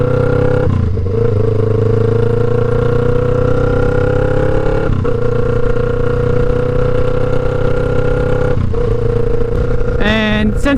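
A 2009 Kawasaki Ninja 500 EX500 rides through city streets, its loud, close engine droning steadily between two clear gear shifts, with a brief rev and a voice near the end.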